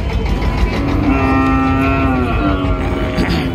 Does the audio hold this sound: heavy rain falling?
no